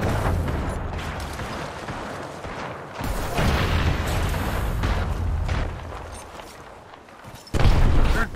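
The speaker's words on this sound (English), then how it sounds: "I hear more gunshots going off over here." Gunfire in the video game Apex Legends during a team deathmatch rolls on continuously, a dense mix of shots and booms loud throughout, with a heavier burst near the end.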